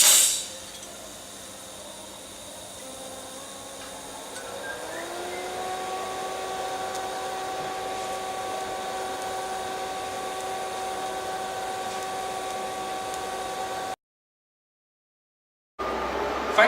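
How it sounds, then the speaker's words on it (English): A Matrix 2200 AC/DC welder runs in DC mode on 2mm stainless steel, giving a steady close hiss with a faint electrical whine that holds for most of the stretch before briefly cutting out. "I'm now going to give you a demonstration in DC mode and 2mm stainless steel."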